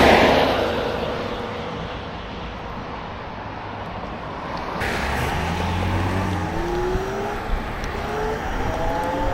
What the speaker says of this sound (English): I'll wait for these cars to go by